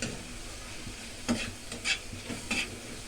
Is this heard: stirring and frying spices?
yes